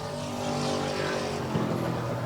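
Race cars running door-to-door on a short track, a pack of engines droning loud and steady with layered overlapping tones. A brief louder swell lands near the middle.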